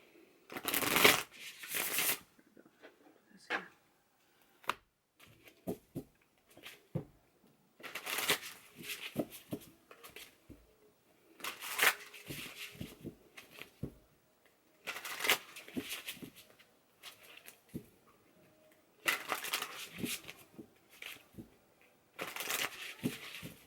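Tarot cards shuffled by hand in repeated bursts of riffling and flicking, each lasting a second or two, separated by quiet pauses with small handling taps and soft rustles.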